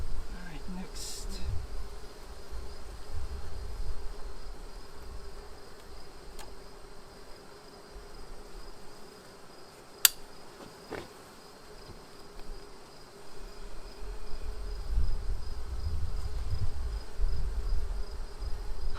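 Honeybees hum steadily around an open hive during an inspection, a constant close drone with a few faint clicks and one sharp tap midway.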